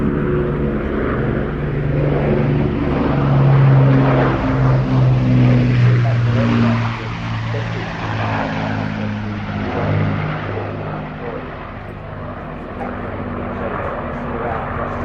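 A propeller warplane, a wartime RAF and Commonwealth type fitted for long-range tanks, flies past at the Midlands Air Festival, its loud droning engine note swelling and then fading slowly, with a commentator talking over it.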